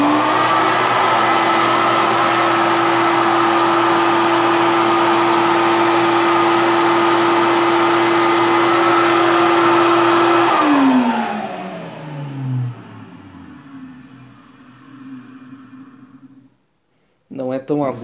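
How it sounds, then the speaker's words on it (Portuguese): An Electrolux Tornado vacuum cleaner runs loud and steady with a constant motor whine, then switches off and its pitch winds down to quiet before a brief final noise. "o som dele, pra mim, é bem característico e me lembra bem a infância"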